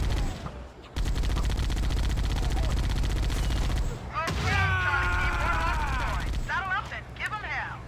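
Rapid gunfire and explosive rocket blasts in the video game Halo, loud and dense for several seconds, then breaking into bursts under excited shouting voices.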